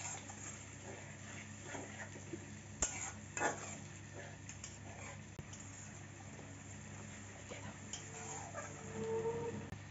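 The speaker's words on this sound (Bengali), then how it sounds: "এখন মশলাটা ভালো করে কষিয়ে নেব।" Spice paste with salt, turmeric and a little water stirred and fried in a pan for a prawn and potato curry, soft scraping of a utensil against the pan with a quiet sizzle underneath, plus a few clinks.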